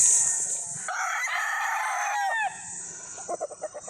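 Young roosters (stags) on a farm crow and cluck. One loud, close crow rings out, followed by a rapid series of short clucks. A faint background chirp sits under the calls.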